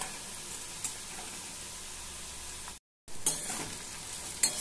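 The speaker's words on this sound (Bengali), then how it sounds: "আলুটা আমি তেলে ছেঁকে নিচ্ছি" Potatoes deep-frying in hot oil for a Bengali posto dish, a steady close hiss of sizzling with occasional clinks of a stirring utensil, briefly cut to silence midway.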